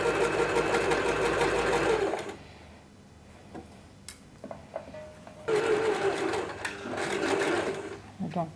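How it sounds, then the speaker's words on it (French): A sewing machine runs a straight seam on recycled fabric for making a bag: a steady fast mechanical whir for about two seconds, a pause with soft handling clicks, then the same whirring resumes, close and clear. "Et on va coudre tout droit."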